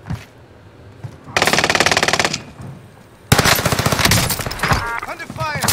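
Rapid automatic gunfire from the video game Warzone Rebirth rattles in two loud sustained bursts separated by a quieter gap, with voices talking over the later shooting.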